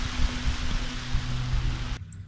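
Heavy rain pours steadily on a farm kitchen outdoors, a dense continuous hiss with low patters that cuts off abruptly near the end.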